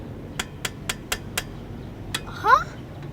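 A screwdriver used as a makeshift hammer strikes a screw in a bicycle repair: about six sharp, evenly spaced taps, close and fairly loud, followed by a brief scrape and murmur of voices.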